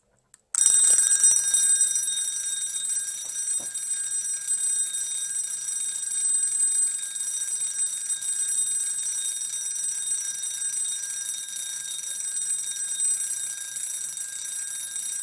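A Swiss Swiza mechanical table alarm clock ringing after a click, a bright, rapid metallic bell trill that starts abruptly and continues steadily and loudly for the rest of the clip, with no speech.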